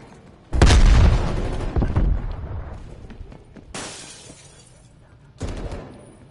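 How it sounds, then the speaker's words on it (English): A frag grenade blasts in a video game with a loud, close boom and shattering crack, followed a few seconds later by further fainter bursts that trail off. "Sending frag grenade."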